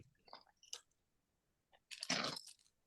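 Someone chews crunchy Scampi Fries snacks close to the mic, with a few small crisp bites and crackles, a pause, then one louder burst of crunching that fades; no talking over it.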